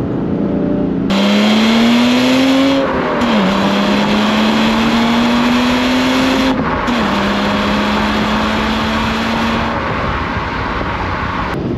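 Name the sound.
BMW M3 E36 six-cylinder engine accelerating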